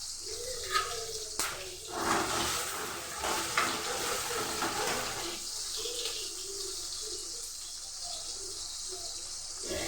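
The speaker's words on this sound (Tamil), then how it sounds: "ரெண்டு நிமிஷம் அந்த பச்சை வாசல் போகிறதுலேயே வதக்கணும்." Okra frying in oil in a pan for an okra curry, a steady close sizzle with stirring clatters and a few sharp knocks, continuous throughout with no talk.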